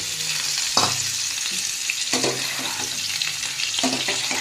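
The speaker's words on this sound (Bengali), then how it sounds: "এবারে ওই তেলের মধ্যেই আমি ইঁচড়গুলো দিয়ে দেব। ইঁচড়গুলো হালকা ফ্রাই করে নেব।" Pieces of young jackfruit fry in hot oil left from frying potatoes, giving a steady sizzle punctuated by three or four distinct stirring scrapes.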